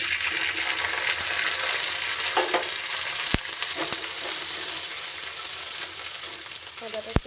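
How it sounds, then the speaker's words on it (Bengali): Onions browning in oil with ginger paste stirred in, a loud continuous sizzle broken by scraping stirs and a few sharp spoon knocks against the pan. "তো চলো লাল লাল করে ভেজে নিই পেঁয়াজ"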